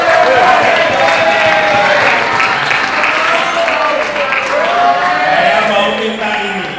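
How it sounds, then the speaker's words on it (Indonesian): An audience at a school event applauds, a loud, dense burst of clapping that carries on steadily while a voice speaks over it and fades slightly toward the end. "Saya mau minta tepuk tangan untuk Pangudilur."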